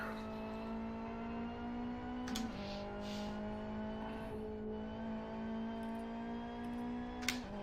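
A race car engine in the Live for Speed racing game drones at a steady, fairly quiet pitch throughout, with a few faint clicks over the hum.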